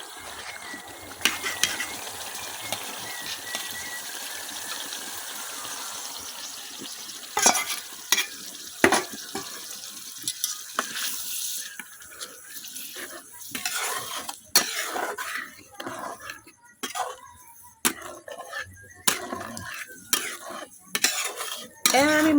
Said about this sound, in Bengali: আমি মশলাটা খুব ভালোভাবে জাল করে নিলাম।